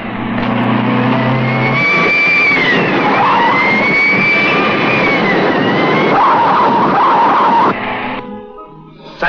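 A police siren wails over a roaring car engine and skidding tires in a Hindi movie car chase, loud and continuous with a rising and falling tone before fading near the end.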